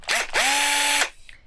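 A power drill, used during an RV repair, whines close and loud in two bursts: a short spin, then a longer steady run that winds down.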